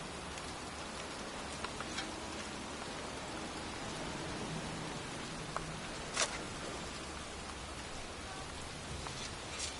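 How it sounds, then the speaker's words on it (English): Heavy rain pouring steadily outdoors, a dense even hiss of drops with a few sharper splashes and knocks, no voices. "It's raining. I'm standing outside getting soaked."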